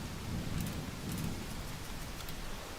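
Steady rain falls in the RoadCraft video game near a big dump truck, a constant broadband hiss with soft low rumbles like distant thunder, no voices.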